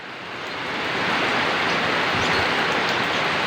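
Steady rain falls on a wet street and plants in a Philippine neighborhood, a dense, even hiss that swells slightly and holds without pause.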